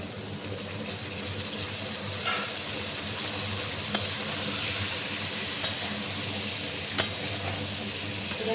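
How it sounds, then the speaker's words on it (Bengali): Steady, loud sizzling of soya chunks frying in a pan, with a few sharp clicks of stirring breaking through the constant crackle. "একটু ভালো করে ভেজে নেব"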